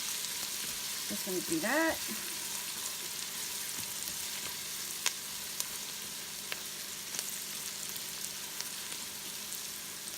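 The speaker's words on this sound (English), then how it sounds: "we're just going to cook this for maybe a minute. I don't want the bacon to get too overcooked." Bacon fries in a Ninja Foodi with a steady, even sizzle and crackle throughout, scattered tiny pops, and a short spoken phrase near the start.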